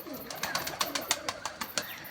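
Pigeons coo in soft, rhythmic bursts inside a loft at close range, with a few faint flutters; no talking.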